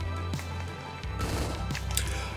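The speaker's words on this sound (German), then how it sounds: "Ach, er schießt trotzdem." Enemy gunfire in Hotline Miami 2, a few quick shots popping over steady game music and background noise, fairly quiet.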